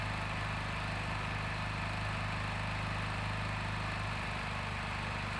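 A Mächtz petrol generator runs steadily at 50 Hz output, a constant close engine drone with a strong low hum that holds unchanged throughout, with no voices.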